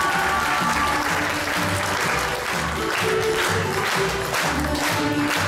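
A concert crowd gives a folklore group from Aglona secondary school loud, sustained applause, a thick roar of clapping over lingering low music or hum from the stage.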